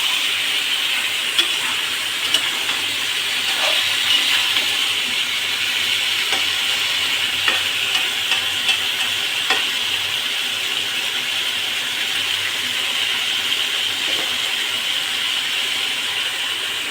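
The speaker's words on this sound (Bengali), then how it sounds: "এই যে দেখুন, ভালো করে কষাইয়ে তারপরে এতে জল দিতে হবে।" Snakehead fish and bottle gourd are stir-fried in a pan, giving a steady close hiss and sizzle with scattered soft clicks and scrapes throughout.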